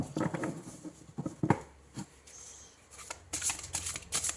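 A deck of oracle cards is shuffled by hand nearby, with irregular papery flutters and soft slaps coming in short bursts and brief pauses, and no one speaking.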